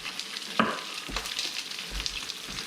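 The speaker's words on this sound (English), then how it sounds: "Watch that sizzle." Chicken breast sizzles in a hot frying pan while being caramelized, a close, steady crackling hiss with a few sharper pops and spatter bursts.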